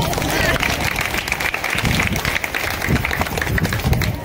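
An audience at a Bhim Jayanti celebration for Dr. Babasaheb Ambedkar's 133rd birth anniversary claps, a dense continuous wash of applause mixed with crowd noise and a voice talking over it.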